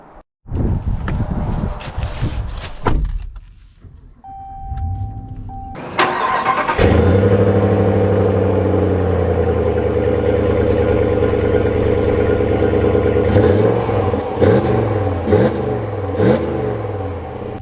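A 2023 Ram 1500 Built To Serve Edition pickup truck starts up: after a few seconds of quieter rustling and a brief beep, the engine catches loudly and settles into a steady, close idle with a few light revs near the end.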